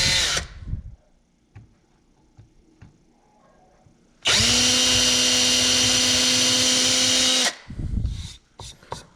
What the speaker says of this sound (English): I want to drill through the holes or through the marks.